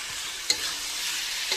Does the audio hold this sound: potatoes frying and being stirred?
yes